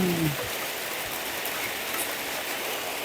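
Heavy rain pours in a steady, dense wash during a storm, loud and continuous without a break, with no voices.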